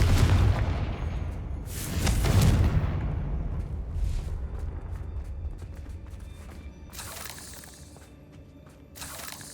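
A fire spell cast in Hogwarts Legacy erupts in heavy booming blasts, a big detonation followed by further crackling explosive bursts and rumbling impacts, loud and close with no voices over it.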